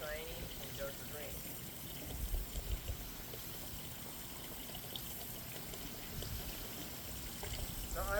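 A garden hose sprays liquid fertilizer onto a lawn, giving a faint, steady watery hiss that runs unbroken from start to finish.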